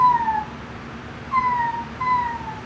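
A human voice in a high whistle register imitates a crying cat or puppy, giving three thin, falling whimpers with pauses between them, close and fairly loud.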